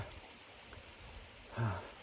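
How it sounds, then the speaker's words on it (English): A creek flows beside a forest trail on the Pinhoti Trail in a soft, continuous wash of water, fairly faint and even, with one brief louder thump near the end. "Beautiful creek right here"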